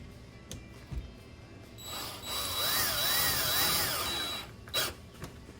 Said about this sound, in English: And now we're going to insert the mounting screws.